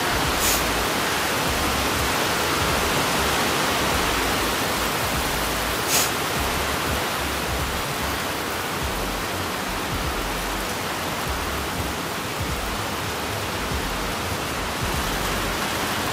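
Heavy rain pours down in Florida, a dense, steady hiss filling the whole span at constant loudness, with a couple of brief sharper ticks but no voices.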